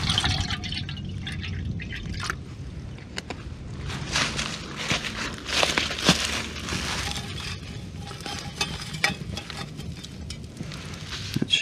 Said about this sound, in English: let's put 4 ounces of water in this and we'll just sit it in the fire